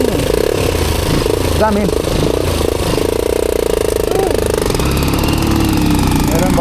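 A motorcycle engine runs at a steady, close idle that holds throughout, with someone talking over it.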